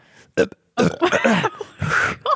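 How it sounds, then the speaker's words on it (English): A loud, drawn-out human burp, with a few rough bursts in close succession, up close and alone, with no talk over it. "Big old burp."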